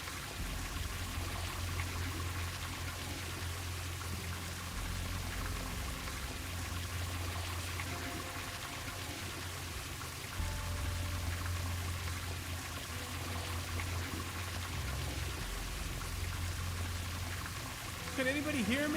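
Water rushes steadily from a decayed pipe in Truberbrook, a continuous loud pouring hiss with a low hum underneath for the whole stretch.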